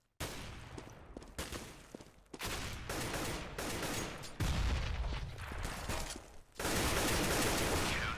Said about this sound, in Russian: забирает последним выстрелом Смит с Карригана